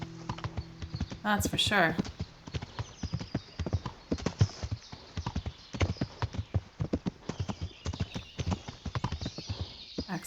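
Horse hooves clip-clop in a steady, rhythmic gait while riding in the medieval video game Kingdom Come Deliverance, close and clear, with a brief whinny early on and someone talking over it.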